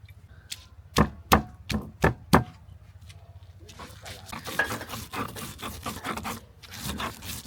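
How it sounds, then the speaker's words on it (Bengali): Ginger being pounded and banana flower mashed into a paste on a grinding stone: a handful of sharp, separate knocks, then steady close rubbing and scraping strokes in a loose rhythm. "এটা আমি আদা বাটাই করব আর কলা মোটাটা এর সাথে থেতো করে নিব"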